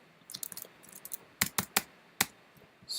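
Typing on a computer keyboard while entering text into an input box: sparse clusters of crisp clicks and a few sharper isolated keystrokes, close and fairly quiet in a still room.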